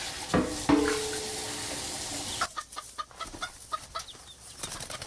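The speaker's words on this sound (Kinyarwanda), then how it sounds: "Ariko igihe Gatese yagiriye kugaburira inkoko" Chickens cluck while being fed, scattered short calls over a farmyard scene with a steady noisy wash early on, then quieter, separate bursts of clucking.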